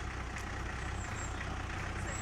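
A steady, low LDV 400 van engine rumble idles continuously up close after a year unused, with a constant droning hum and no pauses.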